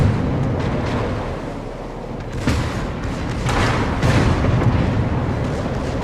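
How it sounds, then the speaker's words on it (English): Secondary guns of a warship in World of Warships fire in a loud, continuous stream of overlapping booms and blasts, with sharper reports breaking through the rumbling barrage. "now his secondaries are now opening up on the Bismarck"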